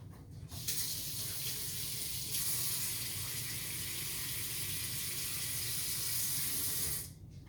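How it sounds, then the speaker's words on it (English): Hands are washed under a running kitchen tap, a steady rush of water that holds for about seven seconds and then stops. "Let me wash my hands."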